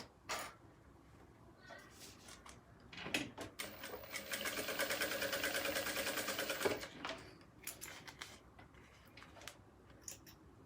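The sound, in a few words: sewing machine stitching a backstitch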